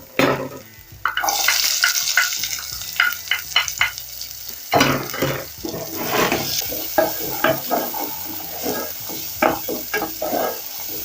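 Onions sauté in a pot for a one-pot rice and minced meat dish, a steady close sizzle broken by repeated stirring scrapes that come in rhythmic bursts.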